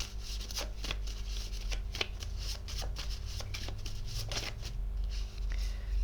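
Playing cards shuffled repeatedly at close range during a card reading, a steady run of soft riffling flicks over a constant low background hum.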